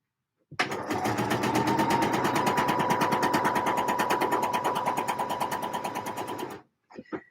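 A sewing machine runs a steady line of stitching on a pleated and gathered skirt, a fast even mechanical rattle lasting about six seconds, close and loud, then stopping with a couple of brief clicks.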